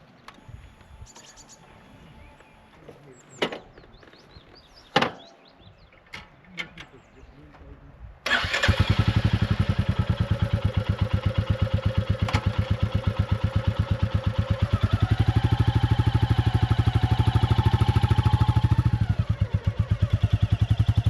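A Royal Enfield Classic 350 motorcycle starts after a few quiet handling clicks, then runs with a steady, loud single-cylinder thump, its revs rising and falling, on a sunny spring day in the English countryside of the Yorkshire Dales.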